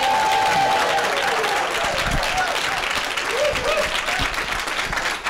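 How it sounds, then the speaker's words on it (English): A crowd at an honors college event breaks into loud, sustained applause and cheering that fills the room, with voices mixed into the clapping. "Come on, give me some applause."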